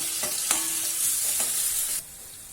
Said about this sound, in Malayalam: ഇഞ്ചി വെളുത്തുള്ളി ഒന്ന് വഴണ്ട് വെക്കാം